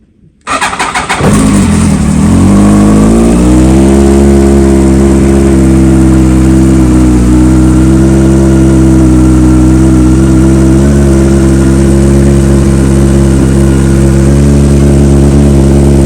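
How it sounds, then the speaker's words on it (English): A Yamaha R1 sport motorcycle engine cranks briefly, fires, and settles into a loud, steady idle that holds unbroken, close to the microphone. "So let's start up the bike now."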